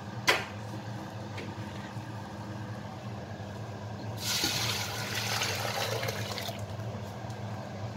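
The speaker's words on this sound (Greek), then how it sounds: "Και το μεταφέρω πάλι στην κατσαρόλα μου." Egg mixture is poured from a bowl back into a cooking pot on the stove, a soft, steady liquid pour heard over a constant low hum of background noise, with a brief knock at the start.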